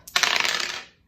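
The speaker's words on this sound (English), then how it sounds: "Let's roll these dice up." Dice tumble and rattle across a hard surface in one quick, close burst of rapid clicks that fades out within a second.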